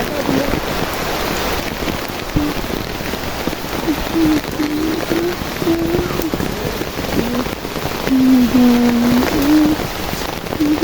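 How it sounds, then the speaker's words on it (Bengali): Steady rain pours down on garden plants, a dense, close patter and hiss that runs throughout, with brief tonal voice-like sounds rising faintly above it at moments. "সুন্দর বৃষ্টি হচ্ছে দেখ"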